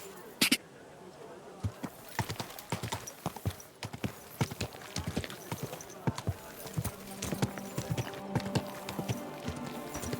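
Horse hooves clip-clop steadily at a riding pace in the medieval game Kingdom Come Deliverance 2, close and distinct, with a horse whinny near the start and faint game voices and ambience underneath.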